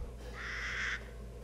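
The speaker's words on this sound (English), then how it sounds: "I heard the bird." A single drawn-out bird call in the video game Resident Evil Village, lasting under a second, clear and moderately loud over a low, steady ambient rumble.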